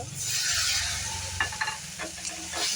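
Okra cooking with sour curd is stirred in a hot pan, a loud continuous sizzle with a few scraping spoon strokes.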